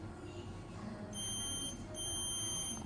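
A multimeter on continuity test gives two sustained, steady beeps in a row, marking a short on the VBAT line of an OPPO A78 phone motherboard that cannot turn on, with quiet workshop background in between.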